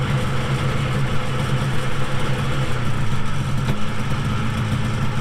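A two-cylinder 250 Elan engine runs with an uneven, continuous idle while the plug leads are pulled off one at a time; a loud rough rumble fills the whole stretch, with a brief change in the note partway through.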